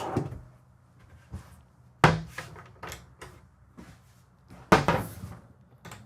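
Several pull-out pantry drawers in a 2023 Winnebago Navion 24D motorhome slide and bump shut in turn, each a sharp wooden knock followed by rattling, close up with quiet gaps between.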